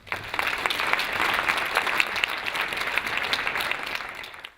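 An audience at the Inland NW 2014 State of Reform gathering applauds keynote speaker Antony Chiang, a dense wash of clapping that swells, holds for several seconds and fades at the end.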